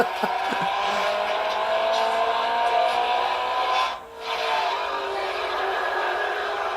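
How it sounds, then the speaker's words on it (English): Italian race cars racing through Tokyo in a racing video game, engine roar with sweeping pitch shifts, tire scrubs and a brief dip as one car passes close. "Looks like we're racing in Tokyo, but we're driving Italian cars."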